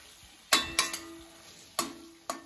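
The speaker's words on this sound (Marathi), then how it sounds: "1-2 मिनिटांसाठी आपल्याला पनीर आणि मटर याच्यामध्ये चांगलं परतून घ्यायचं आहे." Paneer and green peas being sautéed in a pan for matar paneer, heard as a few sharp scraping and clinking stirs of a spoon against the pan over a faint, steady background hiss.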